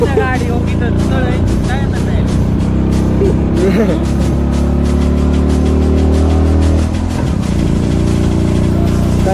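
A car engine labours uphill under heavy load during a trip near Takali Khandeshwar, a loud continuous droning strain with shifting pitch, while people talk and shout over it throughout.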